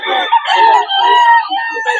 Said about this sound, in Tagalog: Manok ni Boss Lando sa kay Boss Ren